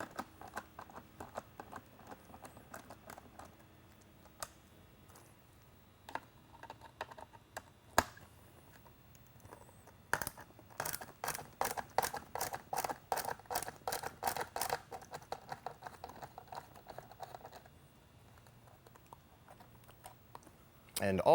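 Torx head screws being backed out of the rear of a Whelen Inner-Edge XLP two-piece lightbar, a run of small rapid ticks and clicks from a driver, close and fairly faint, with quiet handling noises before.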